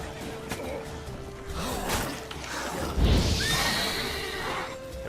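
Horse in The Witcher 3 whinnies during a hectic in-game fight, a rising tonal neigh over swooshes, thuds and combat clatter, fairly close and moderately loud.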